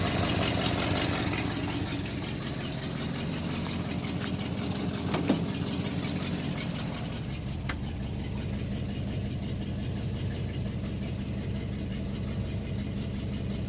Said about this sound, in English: Yeah, at idle, great oil pressure.